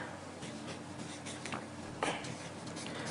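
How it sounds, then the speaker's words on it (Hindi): A pen scratches a name onto paper, soft quick strokes scribbling close and faint over a quiet background, with one slightly firmer stroke near the end. "जिसे भी आपको अपने वश में करना है उसका नाम आपको इस कागज पर लिखना है।"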